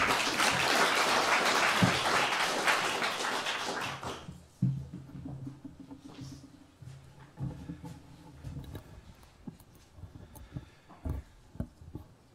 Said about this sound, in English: please, another warm applause for Mr.